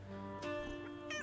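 A cat meowing inside the Nancy Drew video game Secret of the Old Clock, two short, fairly close mews over a steady low ambient hum.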